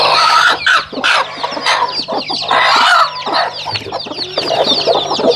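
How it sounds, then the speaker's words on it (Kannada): Country hens cluck repeatedly in short, overlapping bursts, close and loud, with other chicken calls mixed in and no speech. "ಎತ್ತಿ ಕೋಳಿ ಎತ್ತಿ"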